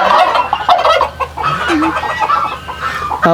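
Turkeys kept at a Bedouin village in the Saudi Arabian desert give loud, overlapping gobbles and clucks, a dense flock chorus running continuously with no speech.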